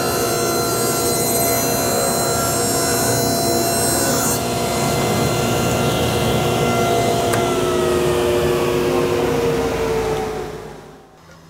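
A power saw rips steadily through a curved wood panel pressed against a fence, its loud continuous whine and rasp holding for about ten seconds before spinning down at the end.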